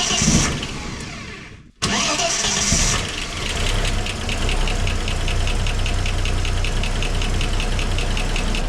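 A Holden HQ car engine cranks roughly, pauses briefly, then cranks again, catches and settles into a steady, slightly knocking idle, loud and close.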